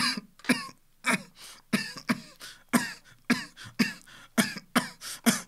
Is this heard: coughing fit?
yes